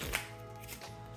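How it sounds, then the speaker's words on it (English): A deck of playing cards being shuffled during a card-to-pocket magic trick, a brief close riffle with soft papery flutter, heard alone without talk. "Proceed to give the deck a couple of cuts here, and another shuffle."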